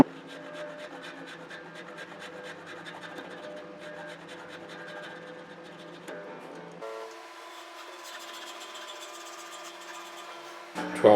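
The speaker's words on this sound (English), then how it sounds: "I am going to refile that nut slot." A file rasps in a nut slot on a 1967 Gibson ES-330 guitar, a close, steady scraping run for several seconds, then a sustained tonal ring and a short louder burst at the end.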